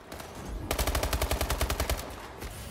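Rapid automatic gunfire from a first-person shooter in Hardpoint mode, a steady burst of about twenty close, loud shots lasting over a second, with no talk.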